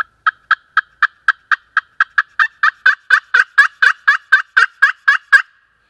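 A Buck Expert Tough Grip turkey friction call sounds a steady series of about twenty sharp, evenly spaced yelps, growing slightly louder, clear and close with no other sound.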